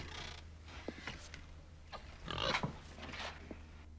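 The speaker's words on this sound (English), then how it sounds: "Oh, it's a pig. I brought you this pig." Short grunting oinks from a pig in a scene from the comedy film Doc Hollywood, a few scattered snorts over a low steady hum, with a louder burst of squealing grunts midway.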